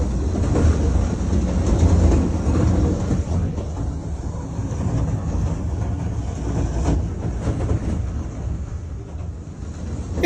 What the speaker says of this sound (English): It's alarming when heavy train cars unexpectedly go off the rails just a few meters away from your vehicle